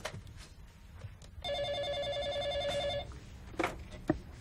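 A telephone rings once in a steady electronic trill lasting about a second and a half, followed by a couple of soft clicks.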